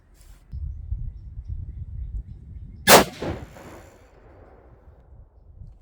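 A single sharp report from a 6.5 PRC Bergara B14 HMR rifle firing a 140gr ELD-M load cracks out midway, loud and abrupt with a short ringing decay, against low outdoor rumble.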